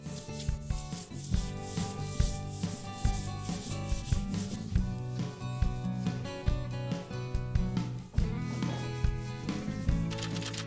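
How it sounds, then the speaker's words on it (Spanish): Fine-grit sandpaper rubbed by hand over a surface while decorating a living room, repeated scratchy strokes in a steady back-and-forth rhythm, close and clear, with tonal background music underneath. "Estamos utilizando una lija de grano fino."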